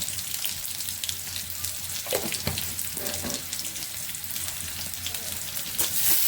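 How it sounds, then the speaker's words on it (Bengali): Onion and cumin frying in oil in a home kitchen, giving a constant hissing sizzle with a few soft stirring knocks partway through and a slight swell near the end. "এখন তেলে দিচ্ছি পেঁয়াজ আর জিরা দিয়ে তেল দেওয়া হচ্ছে"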